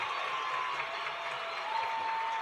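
A looped crowd cheering sample from Logic, layered to mimic a live concert audience: a dense, even wash of distant crowd noise and applause that holds steady throughout, with a faint tonal whistle running underneath.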